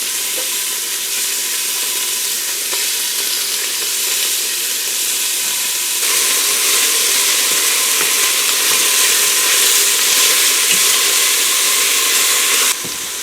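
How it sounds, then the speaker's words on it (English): Beef browning in oil in a pressure cooker, a loud, steady sizzle and hiss of frying meat that runs unbroken with occasional stirring scrapes, growing slightly louder midway before easing off at the end. "put the beef in, trying to get it into a single layer so that it all can brown"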